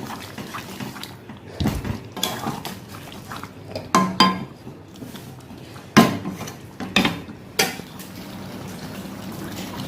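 Spoon scraping and knocking against a cooking pot while chicken is stirred with onion and tomato for a Bengali chicken do pyaza, close up, with irregular metallic clanks and a few sharper knocks.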